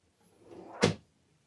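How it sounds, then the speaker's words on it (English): A cabin drawer in a deluxe balcony stateroom aboard the MSC Seashore cruise ship slides and shuts with a single close, sharp knock, preceded by a short soft rolling slide, then quiet. "You got your drawers. So plenty of drawer space."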